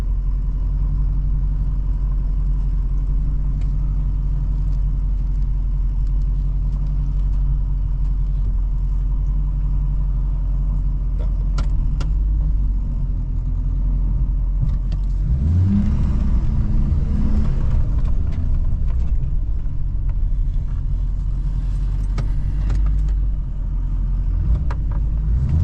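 An automatic car with a suspected transmission fault, shifted into reverse and creeping backward, gives a steady low engine rumble that swells with a rougher surge partway through, with no talking.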